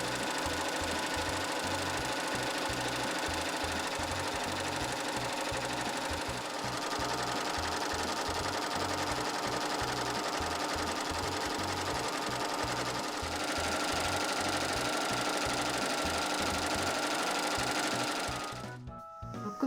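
An overlock serger runs continuously, stitching and finishing the cut edges of Marimekko cotton fabric for a gathered skirt, a fast steady mechanical whir with rhythmic knocking, stopping abruptly just before the end.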